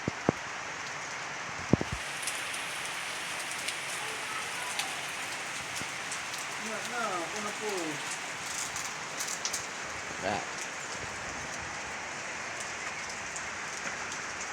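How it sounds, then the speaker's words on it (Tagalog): Steady rain falling on a surface during a trip home to Villanueva, a dense continuous hiss with a few scattered knocks and faint sounds in the background. "Ulan rana."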